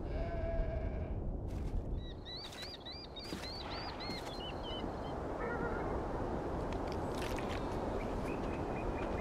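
Sheep bleat in the Beyond Two Souls video game, several wavering calls near the start over a constant windy outdoor rumble, with later bleats fainter and more distant.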